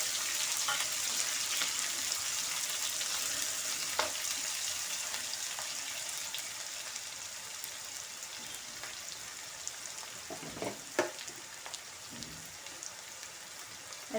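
Sliced onions and a dried red chilli frying in hot oil for ridge gourd curry give a soft, steady sizzle with occasional faint pops and stirring clicks, quiet and with no voices.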